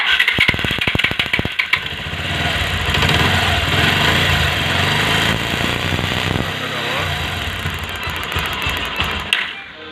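A Bajaj Pulsar motorcycle engine cranks with a rapid burst of starter clatter, then catches and settles into a steady, loud, close idle that runs for several seconds before tapering off.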